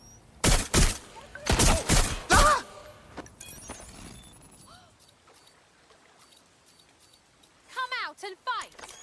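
Bursts of rapid gunfire crackle in Watch Dogs Legion, several loud volleys in quick succession, followed by quieter stretches and shouted voices near the end.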